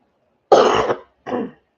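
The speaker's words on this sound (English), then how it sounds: "Excuse me for coughing." Two short coughs close by, the first harsher and longer, a brief pause before the second.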